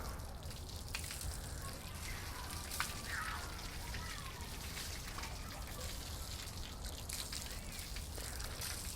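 Continuous hissing spray of running water patters steadily across a coated car's paint, even and unbroken for the whole stretch.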